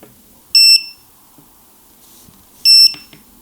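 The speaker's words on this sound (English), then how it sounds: "So the loud beeping is about to start." A ViFly Finder 2 lost-model alarm for drones sounds two loud, piercing electronic beeps about two seconds apart, each short and shrill against an otherwise quiet room.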